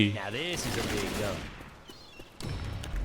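Rapid bursts of gunfire from the zombie shooter Left 4 Dead 2, crackling in close volleys with game effects, while a voice talks over the start.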